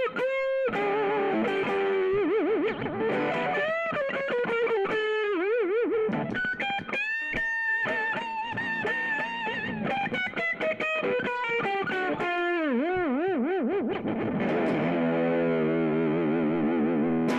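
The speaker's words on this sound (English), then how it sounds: "by the time you're up to 10 on this thing, you're into some pretty heavy distortion territory" A guitar is played through an amplifier turned up to 10, producing heavy, buzzing distortion with sustained, wavering notes and chords that ring continuously and loudly throughout.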